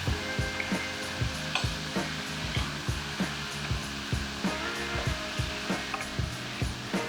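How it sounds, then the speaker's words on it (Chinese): Cooked white rice is stir-fried in a dry pan for dragon fruit fried rice, with a spatula scraping and tossing in a steady rhythm over a constant hum of sizzling and kitchen noise. "然后我们现在可以马上倒白饭进去炒。"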